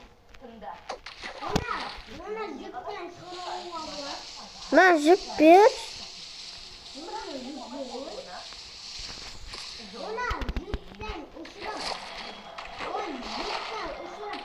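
A horse falls into water in Minecraft, setting off splashing game sounds under the chatter of children talking throughout, with a louder burst of splashes near the middle.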